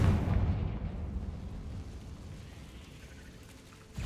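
Confringo blasting spell in Hogwarts Legacy sets off a heavy, booming explosion with a deep low rumble that starts loud and slowly fades over about four seconds, with a fresh burst right at the end.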